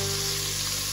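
Beef and other meat browning in a hot pot for Texas-style chili, giving off a steady, even sizzle with no break and no talking.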